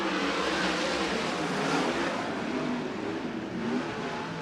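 USAC midget race cars accelerating at a restart at Merced Speedway, a dense, loud engine roar from the pack that holds steady throughout.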